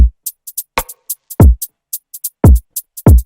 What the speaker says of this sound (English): We've got a kick, and with the kick, you really want to make sure these velocities are hitting the roof